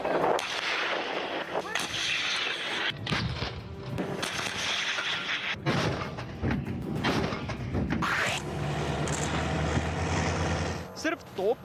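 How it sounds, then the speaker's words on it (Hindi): Russian artillery shelling near the Ukraine border, a rapid series of loud, heavy booms and blasts overlapping one another, with rumbling echoes and some speech underneath. "आप गिनते गिनते थक जाएंगे, लेकिन रूस की ये फायरिंग खत्म नहीं होगी।"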